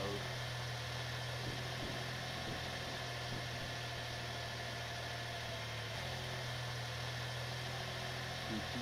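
A car engine hums steadily while driving down a wasteland road in the game Fatal Delivery, a faint, constant low drone with a slight vibration and no breaks.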